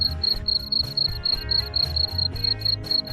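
Farmed crickets chirp in a steady, rapid pulsing rhythm, bright and close, over a low droning background hum.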